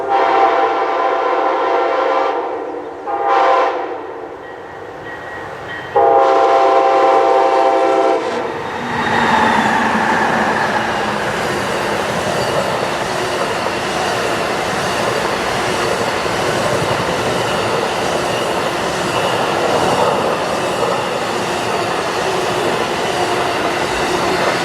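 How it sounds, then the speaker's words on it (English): An Amtrak passenger train led by two new Siemens ALC-42 Charger locomotives sounds loud horn blasts up close, then roars past with a steady rumble and rushing rail noise that fills the rest of the stretch. "2 of Amtrak's new Siemens ALC-42 Charger locomotives lead the way"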